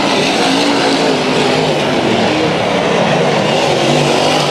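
Race cars at a racetrack heat, a continuous loud roar of several engines blending together as the field runs past, steady and close with no clear gaps and no voices.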